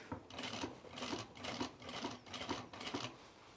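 A sewing machine stitches through a jeans waistband near worn zipper teeth, giving soft, evenly spaced bursts of rapid needle clatter, about seven in a row, quiet and close, with no talk.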